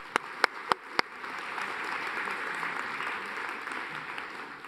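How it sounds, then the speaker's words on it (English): An audience at a university event applauds the sheriffs of Norwich, opening with a few sharp, separate claps before swelling into steady, even applause across the room. "Round of applause for the sheriffs."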